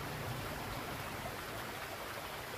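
A river in Chi Fu forest flows with a soft, continuous rush of water, faint and steady, with no voices.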